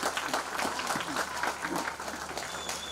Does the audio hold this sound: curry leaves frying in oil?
no